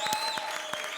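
Audience applause at a televised Comedy Circus stage comedy show: a brief burst of scattered claps over a sustained musical tone, about a second long.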